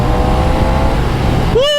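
Ducati Diavel V4 motorcycle accelerating at under half throttle, a loud, close, steady engine roar with a rising tone that breaks off into a brief whine at the end.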